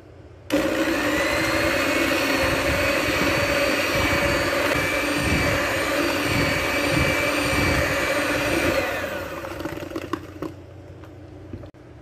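An electric mixer beats cake batter with yogurt and oil for cupcakes, a loud steady whirring drone that runs for about eight seconds before slowing and stopping with a few clunks.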